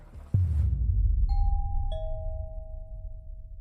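A doorbell rung by a ding dong ditcher gives a clear two-note ding-dong, the first tone ringing out and the second following a moment later, over a rumbling background that opens with a thump.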